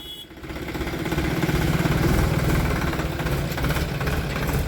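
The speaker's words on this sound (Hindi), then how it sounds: "सिट्टी मार रहा जी ट्रैक्टर" A new tractor's diesel engine runs close by in a rural yard, a loud chugging throb that rises and then holds at a steady level. No one talks over it.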